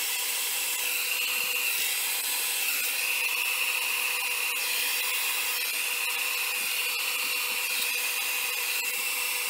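A handheld dryer blows steadily to dry and spread alcohol ink in place on an art piece, a constant close airy whoosh with a motor whine running unbroken throughout, no talking.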